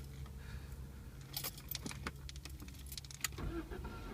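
Cold start of a BMW E36 whose engine bay rattles and knocks: a low, steady engine rumble runs throughout, with scattered metallic clicks and key-like jingles in the middle, fairly quiet overall.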